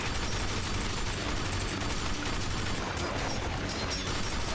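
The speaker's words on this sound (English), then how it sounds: "for a machine gun, this thing doesn't really sound that powerful" A machine gun fires continuously in the video game Binary Domain, a dense, rapid, unbroken rattle that fills the whole stretch at even loudness, with no talk over it.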